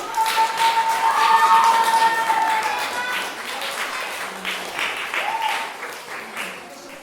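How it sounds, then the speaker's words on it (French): An audience claps for a young girl performing a short magic act with a coloring book at an arts workshop show, with steady, fairly close applause fading slightly toward the end and a few voices mixed in. "On peut l'applaudir!"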